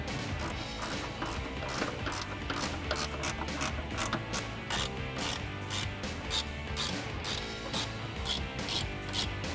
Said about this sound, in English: For the two in the middle, you're going to need to use a 10mm wrench since they have nuts on the back side.